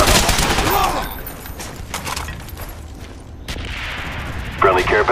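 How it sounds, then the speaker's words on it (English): A mortar strike lands in Call of Duty: Black Ops amid rapid gunfire, with loud crackling blasts at the start and again near the end over busy battlefield noise. "Friendly mortars inbound."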